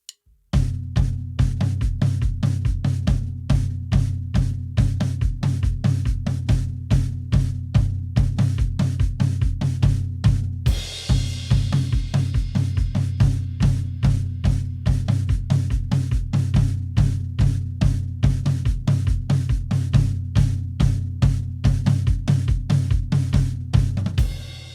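A drum kit plays the chorus of a worship song for around twenty-four seconds, a steady driving rhythm of close, loud hits with cymbal wash building in the second half.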